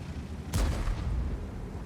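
A single heavy cannon shot from the FV 4005 Stage II tank destroyer in a tank video game, a sudden loud boom with a rumbling tail against steady background noise.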